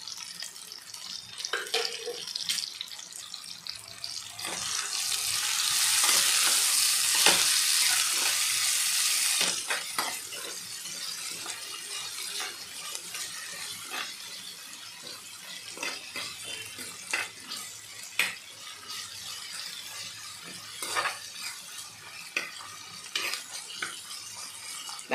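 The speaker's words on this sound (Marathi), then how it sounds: "टोमॅटो आपले परतून झालेले आहेत" Tomatoes softening with salt in a pan for masala rice, stirred with a spoon: a burst of sizzling midway, then scattered scraping clicks and utensil taps at a modest level.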